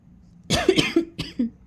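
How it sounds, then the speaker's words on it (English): Several short, sharp coughs in quick succession, loud and close, with no talking. "My coughs are louder than my voice, isn't it?"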